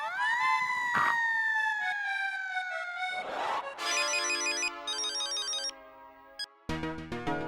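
A telephone rings during a household scene in a comedy serial, with a bright, sustained electronic tone that drops in pitch and is followed by choppy synthetic ringtone bursts and short gaps, loud and close, with no talk over it.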